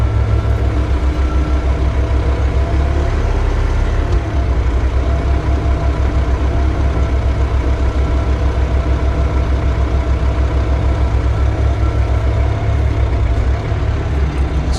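A CAT TH460B telehandler runs close by after a hydraulic pump replacement, giving a loud, steady diesel drone that holds evenly throughout with no voices over it.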